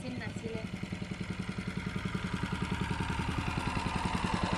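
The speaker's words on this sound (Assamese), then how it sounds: "এই আমাৰ পিছপিনে এখন মেচিন থকা নাও আহিছে" A motorboat engine chugs in a steady, rapid pulse on the Sonbeel wetland, growing gradually louder as it approaches from behind, with a person talking over it.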